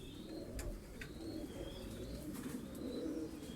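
Large balina pigeons in a rented pigeon loft at Karacabey, Bursa, give low, steady cooing that murmurs continuously through the clip, with a few faint higher chirps above it and no voices.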